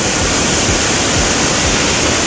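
Water poured steadily in a dense continuous rush, loud and close, with no talking over it.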